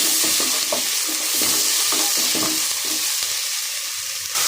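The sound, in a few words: bottle gourd frying in hot oil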